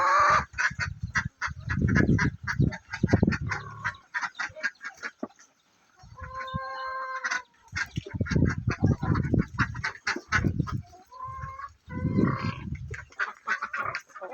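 Farm ducks feeding on azolla quack and honk loudly in repeated bursts up close, with short pauses and some chicken-like clucks mixed in, no talking.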